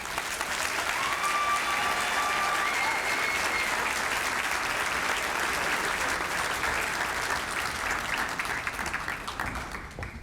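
Audience applause for four business award honorees at an awards and hall of fame event, a dense, steady wash of clapping from a large crowd that holds for ten seconds before starting to thin at the end.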